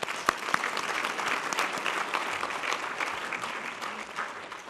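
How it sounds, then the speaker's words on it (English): An audience at a youth center humanitarian awards event claps together, dense applause with a few sharp individual claps standing out, held steady for nearly five seconds and then easing slightly. "So please give yourselves a round of applause."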